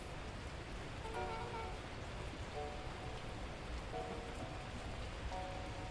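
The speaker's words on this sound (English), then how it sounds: "At that moment, the heavens opened up, unleashing torrential rain." Torrential rain in the video game Beacon Pines pours in a dense, steady hiss of drops beating on surfaces, with a soft recurring chime-like tone faintly above it.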